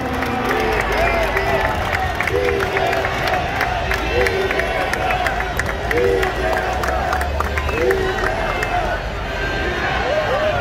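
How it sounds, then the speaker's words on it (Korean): A large crowd at a Korean political party rally cheers and claps for the party leader, a loud, dense roar of voices and hands running continuously, with shouted chants and a voice calling out over the din. "큰 함성과 박수로 이재명 대표에게 힘을 주시기 바랍니다"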